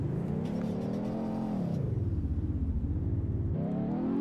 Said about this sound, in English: Now let's hear her start up. Sounds pretty nice. Doesn't sound like a clunker.